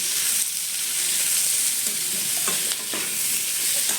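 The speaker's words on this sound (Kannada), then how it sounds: "ಉಪ್ಪು ಹಾಕಿ ಈ ಥರ ಮಿಕ್ಸ್ ಮಾಡ್ತಾ ಇದ್ದೀವಿ." Carrot pieces frying in a pan as they are stirred with salt, a loud continuous close sizzle with scraping stirring strokes throughout and no talk.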